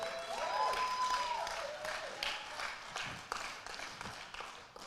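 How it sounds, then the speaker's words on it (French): Congregation at a church sermon in Paris applauding, a soft, fairly distant wash of clapping that swells briefly and then thins into scattered claps. "Usted aplaude y no sé si sabe lo que está aplaudiendo."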